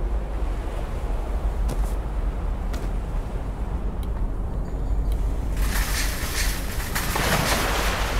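In the horror game In Sound Mind, a cart is pushed through water. A continuous wash of sloshing, surf-like noise with a low rumble carries on throughout and grows brighter and louder near the end.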